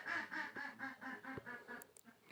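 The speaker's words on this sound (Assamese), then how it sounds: "হাঁহকেইটাই পে পে পে পে মাৰি আছে।" Ducks quack in a quick, regular series of nasal calls, close by on a goat farm in Assam in bad weather, followed by a few sharper clicks near the end.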